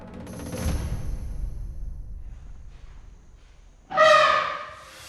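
A loud, brassy elephant trumpeting blast bursts in near the end after a stretch of low rumbling background, rising sharply and then tailing off.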